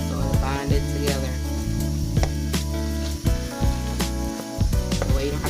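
Sausage and eggs for breakfast quesadillas sizzle steadily in a hot pan, with scraping and tapping of a utensil stirring through the mixture, loud and close with no talk.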